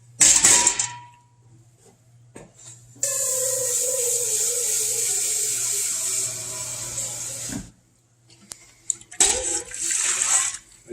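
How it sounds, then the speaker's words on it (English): Water poured from a rinsed pot into a stock pot over beef bones for beef stock, a steady splashing gush for several seconds, framed by brief clatter before and after. "And I'm going to cover the bones with water."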